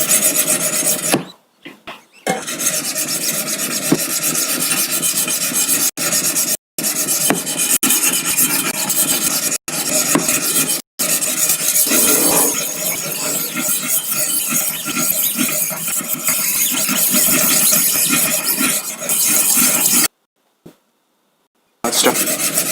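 A knife blade is drawn over the stones of a Wicked Edge Go sharpener in long, continuous rasping strokes, close and loud, broken by a few brief pauses and a longer gap near the end.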